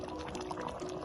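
Beef cooking for a Ghana beef stew in a pot, with a steady, close, continuous bubbling and sizzling and no talk.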